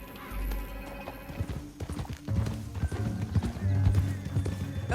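Rhythmic clip-clop of horse hooves at a steady gallop in Red Dead Redemption, over a dense game soundtrack, with a horse whinnying partway through.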